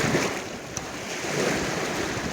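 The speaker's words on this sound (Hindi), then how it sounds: "किनारे पे बैठ के लेट के और पानी की आवाज़ सुनना।" Water of Pangong Lake in Ladakh washes and laps steadily against the shore, a soft continuous wash mixed with light wind rumble, with no voices.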